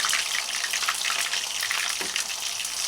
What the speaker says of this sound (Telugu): ఇది పచ్చి వాసన పోయేటట్టుగా వేయించుకోవాలి